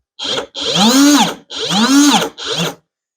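A Ryobi 18V One+ P531 speed saw spins up and winds down four times, with short and longer bursts of rising and falling motor whine, loud and close, and no one speaking.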